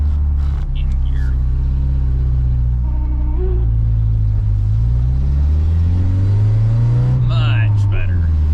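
A 1986 Nissan 200SX with a five-speed manual gearbox, now running on all four cylinders, drives with a smooth, steady engine drone that rises and falls through the gears as people talk in the cabin.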